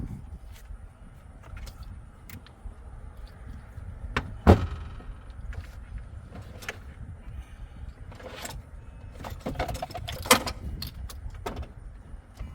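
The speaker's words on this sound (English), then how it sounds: "now I can pull out the battery" Old battery being pulled out of a BMW X, with scattered clunks, scrapes and knocks of metal and plastic, one sharp thud standing out, close and fairly quiet over a low background hum.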